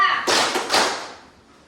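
A high school class in a classroom claps in unison, two or three broadband hand-clap bursts in a short rhythm pattern, fairly close and loud, with a voice briefly at the start.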